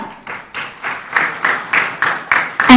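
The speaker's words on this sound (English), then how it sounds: "please give a round of applause for Ms." A conference audience claps for a speaker who has just finished, a steady run of pulsing bursts of applause that carry clearly through the hall with no one talking over them.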